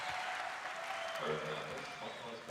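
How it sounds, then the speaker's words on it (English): A basketball arena crowd in a 1984-85 Bulls versus Lakers game cheers and applauds steadily as a player heads to the bench, a broad sustained roar with faint commentary mixed in. "Goes to the bench, and the crowd sends him there with a cheer"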